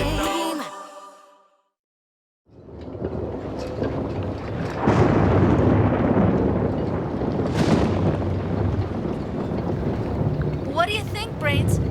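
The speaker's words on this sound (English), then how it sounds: "Is the storm going to hit us?" Storm wind gusts in a cartoon scene, a heavy roaring rush that swells and holds steady after a brief lull, with a deep rumble running underneath.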